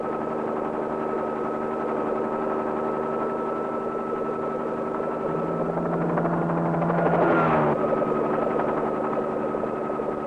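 Helicopter flying over cattle country on a large stock property, a steady droning rotor and engine hum holding throughout, rising briefly as it passes closer near the end.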